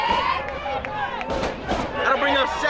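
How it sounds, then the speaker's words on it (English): Homecoming crowd at a Coolidge Colts high school football game, a steady roar of cheering and babble swelling in waves, with scattered shouts over the noise. "You guys can hear the ruckus crowd here for Coolidge Colt homecoming"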